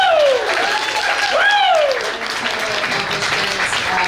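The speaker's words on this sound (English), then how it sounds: "Gotta give a round of applause for that" Applause from an audience honouring a Hall of Fame inductee: steady, fairly loud clapping from a crowd, with a voice rising over it and whoops or cheers sliding through early on.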